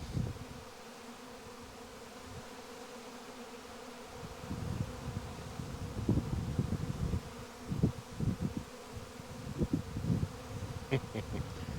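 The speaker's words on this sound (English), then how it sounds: "I even got bees on the camera right now." A dense, continuous buzz of a honeybee swarm close by, growing busier and louder partway through, with occasional rustling.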